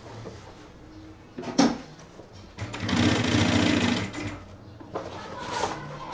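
A sewing machine stitches the top section of a men's backpack with a separate shoe compartment. A short burst is followed by a longer, steady run of rapid stitching, close and fairly loud, then a lighter stretch.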